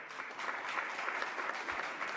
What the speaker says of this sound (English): we're going to have everyone hold your applause